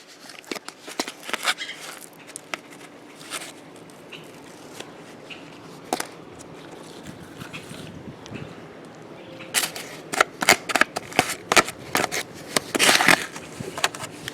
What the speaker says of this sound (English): I'm just going to scrape up as most of it as I can